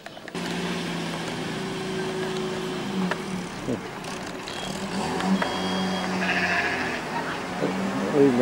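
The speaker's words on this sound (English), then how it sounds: "there has to be sheep everywhere" Sheep bleating in the countryside around Goathland in North Yorkshire, a few faint bleats heard amid outdoor background noise and people chatting nearby.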